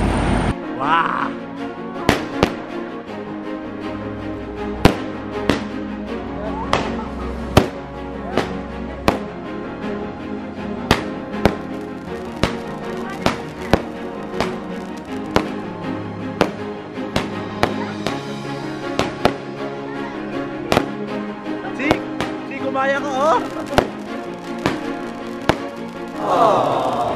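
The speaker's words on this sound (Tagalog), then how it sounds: "Sila yung magpapaputok ng fireworks." Fireworks are set off outdoors, firing as sharp, loud bangs spaced irregularly over about half a minute, with music and voices carrying on underneath.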